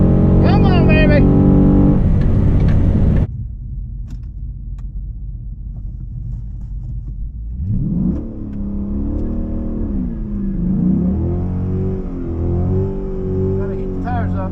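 A Chrysler 300 SRT8 with bolt-on mods revs hard at the drag strip, first in a loud burst, then a quieter idle, then rising and falling engine surges, with a voice speaking over parts of it.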